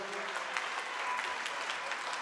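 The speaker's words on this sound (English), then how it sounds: "Give Firoza a big round of applause." An audience at an African National Congress dialogue in Gauteng gives a sustained round of applause, a thick, even roar of many clapping hands with faint voices mixed in.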